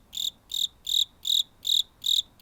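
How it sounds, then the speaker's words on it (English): Cricket chirps used as a comedic silence gag after a joke falls flat: six evenly spaced, bright trilling bursts, clear and alone with no talk. "Crickets."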